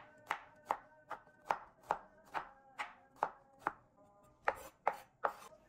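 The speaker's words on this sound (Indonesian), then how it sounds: "Lalu geprek dan iris bawang putih." Garlic cloves are smashed and then sliced with a knife on a cutting board, about a dozen crisp, evenly spaced chopping knocks, close and quiet, with no speech.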